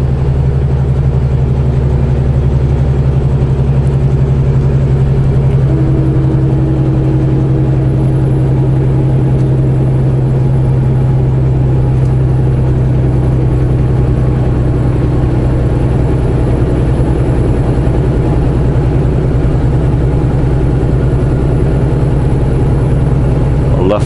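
A truck engine climbs a Rocky Mountain grade in 8th gear at about 1,400 RPM and 36 mph, giving a steady, loud, low droning pull that holds constant throughout with no talk over it.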